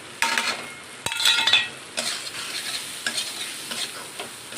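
A spatula scrapes and stirs tomato, salt, turmeric and chicken masala frying in a pan, close and clear, with irregular clinking strokes over a constant sizzle and no talking.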